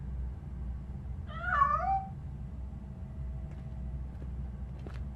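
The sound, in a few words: cat meowing in video game RoboCop Rogue City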